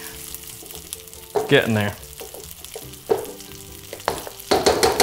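Hot food sizzles and crackles in a pan as it is stir-fried, with bursts of louder frying and a brief spoken remark over it.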